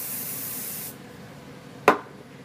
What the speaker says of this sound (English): we'll take that and spray it into place